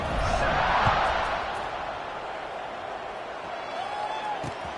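A stadium crowd roars at kickoff in a football video game, a broad, steady wash of noise that swells early and then settles into a sustained hum.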